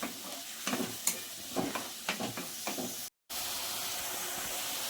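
Chicken curry masala frying in oil, stirred with several distinct scraping strokes over a dense sizzle, then after a brief cut a steady close hiss of frying alone.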